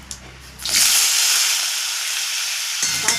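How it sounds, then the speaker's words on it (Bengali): Washed potatoes drop into hot oil and burst into a loud, steady sizzle that keeps hissing close up after a brief clatter at the start. "আলুটা ধুয়ে রেখেছি, এবার আলুটা ছেড়ে দেবো।"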